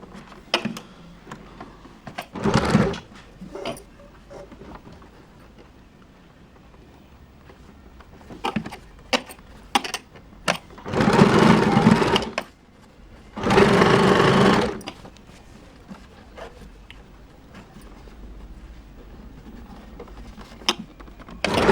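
A sewing machine stitches children's underwear in a few separate bursts, two long runs and one shorter, with quiet pauses between them.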